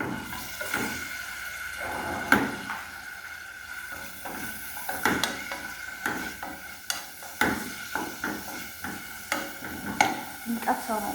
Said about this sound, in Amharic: ልጠብሰው ነው ጥቅል ጎመኑን ማለት ነው።